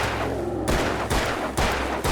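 Gunfire from a gun in the video game Alan Wake: three loud, close shots, each a sharp broadband crack with a short tail, spaced roughly half a second apart over a steady low hum.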